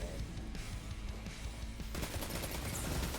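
Rapid bursts of automatic weapon fire from The Forward Path in the shooter game Destiny 2, a fast rhythmic rattle of repeated shots with a denser volley after a short pause, heard fairly quietly.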